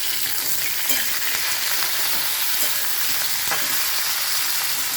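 Potato, capsicum and meal maker frying in a pan for a curry give a steady, continuous sizzle throughout, with occasional soft stirring clicks and no voices.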